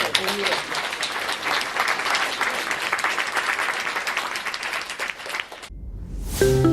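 Sustained audience applause for a panel at a big data and artificial intelligence forum, dense clapping for several seconds that stops abruptly, followed by a short burst of other sound.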